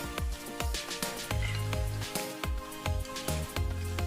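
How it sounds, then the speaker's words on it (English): Plantain slices fry in hot oil, a dense crackling sizzle close at hand, with clinks from a utensil turning the pieces and low hum bands underneath, no talking. "Turn in your plantain for about 2 minutes until they get golden and crispy."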